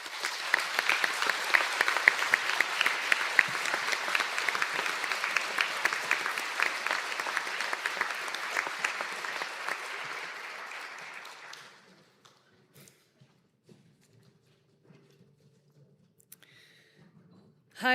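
Sustained applause from an audience honouring graduates at a conferring ceremony in Donegal, loud and dense for about twelve seconds before it stops abruptly, leaving near silence with a few faint rustles.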